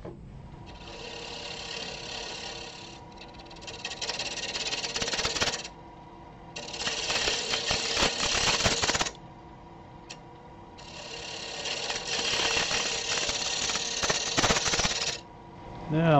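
A woodturning lathe cuts the outside of a cross-grain wooden box, shaped like a bowl from bottom to top, in several long bursts of scraping, rasping cutting separated by short pauses under the running lathe's hum.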